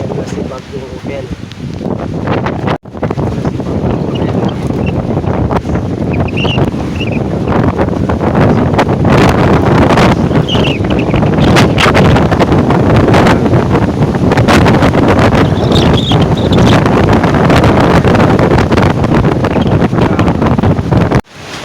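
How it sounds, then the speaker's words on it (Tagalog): Strong wind from Typhoon Opel in City of Ilagan, Isabela, roars and buffets the microphone in loud continuous gusts, with rustling and rushing water beneath and a voice talking over it. "Wala na, lakas ng hangin."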